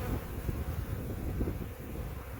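Honeybees buzz in a low, steady, dense drone around hive frames pulled out during an early-March hive inspection, with some wind rumble mixed in.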